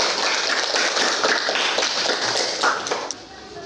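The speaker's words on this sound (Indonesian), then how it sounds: "Mari kita beri tepuk tangan." Students in a classroom applaud together, a dense, bright patter of many hands clapping close by for about three seconds before it thins and fades out.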